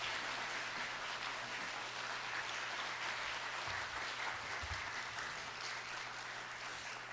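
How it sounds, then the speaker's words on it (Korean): A church congregation at a Sunday evening service applauds to welcome the pastor, a steady, distant wash of clapping lasting several seconds with a low hum beneath. "박수로 모시겠습니다."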